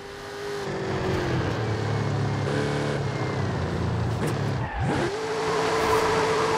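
A car is driven hard in Forza Horizon 5, its engine droning and revving steadily with a sweeping pitch drop partway through as tires squeal and skid, loud and close with no talk.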